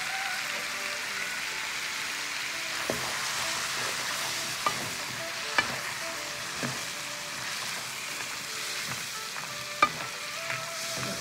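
A quarter stick of butter sizzles in a pan for lobster pasta, a steady close frying hiss with occasional sharp pops and clicks from a utensil.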